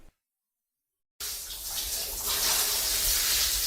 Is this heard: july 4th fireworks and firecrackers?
no